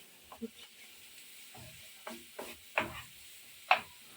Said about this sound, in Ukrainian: І також трошки підсмажуємо